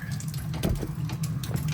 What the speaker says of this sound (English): Just water freaking everywhere.